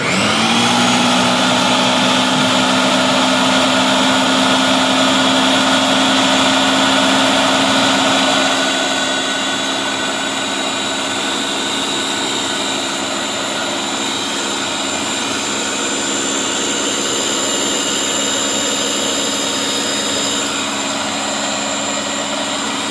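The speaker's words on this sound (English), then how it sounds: "This is a Ninja 1200 watt food processor, and when it's on high, I'm sure it's going to draw just about 1200 watts" Ninja 1200-watt food processor runs on high while making cauliflower rice, a loud, steady motor whine up close that eases slightly partway through and keeps spinning without pause.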